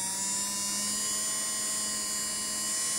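An electric nail file running with a ball bit, a steady high-pitched motor whine with faint hum, continuous and close for the whole stretch, no voices.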